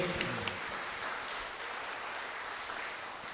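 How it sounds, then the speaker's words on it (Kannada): Congregation clapping at a live Kannada church prayer meeting, a dense, continuous round of applause from many hands, fairly faint and even throughout. "ಒಂದು ಗಟ್ಟಿ ಚಪ್ಪಾಳೆ ಯೇಸುವಿಗಾಗಿ ಪ್ರಿಯರೇ"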